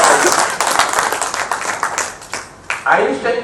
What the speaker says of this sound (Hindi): तालियां बजाए अपने आप में।